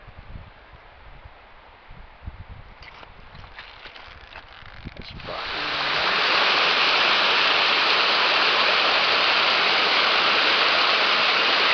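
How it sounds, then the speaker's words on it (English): Water rushing down a creek in a canyon along the Sweeney Creek trail, starting as a softer distant hiss beneath footsteps and rustling, then swelling into a loud, steady roar as the water comes closer. "I think over in that canyon, you hear water coming down."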